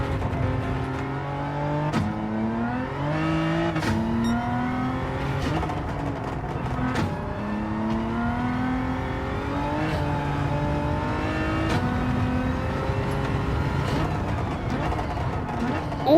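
Turbocharged Hyundai racing around the Nürburgring in Gran Turismo 7, its engine loud and close as it revs up through the gears again and again, each rising whine snapping down at the shift, with faint tire noise underneath.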